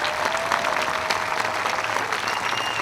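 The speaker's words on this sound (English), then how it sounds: "If everybody will show their appreciation by clapping" An outdoor Veterans Day program crowd in San Dimas claps for veterans, a steady, dense round of applause from many hands, even and sustained throughout.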